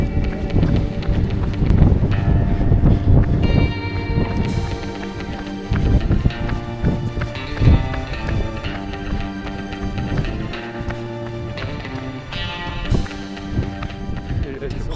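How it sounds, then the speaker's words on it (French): Strong, gusting wind buffets the microphone on Mont Ventoux in cold November, roaring continuously with swelling surges and rumbling low gusts, accompanied by footsteps of someone running along the trail. "On arrive sur un vent très violent"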